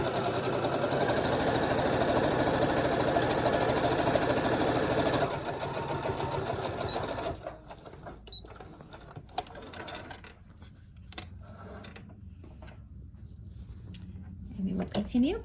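Sewing machine stitching forward then backstitching to reinforce a studio apron pocket seam, a steady loud mechanical whir that stops partway, followed by quieter handling clicks and rustles.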